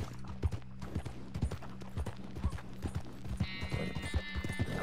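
Hooves clip-clop in a steady walking rhythm on a hard surface in Red Dead Redemption 2, with a soft chime briefly sounding toward the end.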